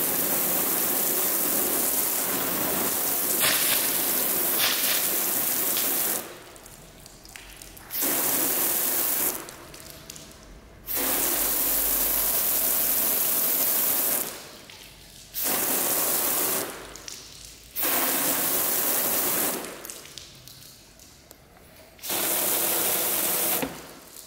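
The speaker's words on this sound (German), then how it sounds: "wir hauen jetzt hier einmal schön Wasser drauf" A pressure washer sprays water over the coated paint of an Audi R8, loud and close, running in several long bursts of steady hissing separated by quieter pauses.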